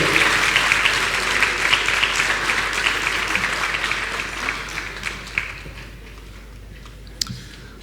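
An audience at a masterclass ceremony in Dakar claps steadily, a dense patter that slowly thins and quiets, with a few isolated claps standing out near the end.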